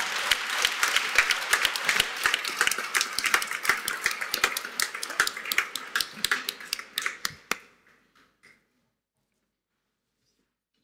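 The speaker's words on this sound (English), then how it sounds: "Another big round of applause." Worshippers at a Catholic Mass for the Feast of St Joseph the Worker give a lively round of applause with sharp individual claps standing out, fading out after about seven seconds into near silence.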